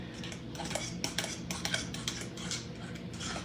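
A spoon stirs a creamy fruit salad made with cream cheese in a bowl, giving steady clinking and scraping with sharp utensil taps against the bowl throughout.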